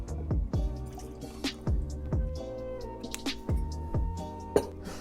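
Wild Turkey bourbon whiskey, 81 proof, poured into a glass: a quiet series of gurgling glugs and liquid drips repeating every half second or so, close up, with a small clink near the end and no talk.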